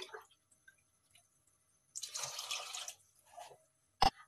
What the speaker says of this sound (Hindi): अब मैं इसके अंदर 2 ग्लास पानी डाल दूंगी।